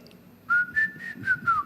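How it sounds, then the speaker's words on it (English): A man whistles a short, clear tune of about five sustained and sliding notes, close and solo against a quiet background. "Do you know why I smile every time I whistle?"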